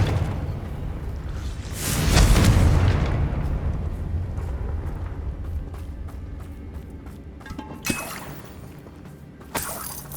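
A Confringo fire spell blast in Hogwarts Legacy inside a goblin mine, a loud roaring explosion with shattering debris that swells then decays into a long rumbling tail, followed later by two sharper, smaller bursts.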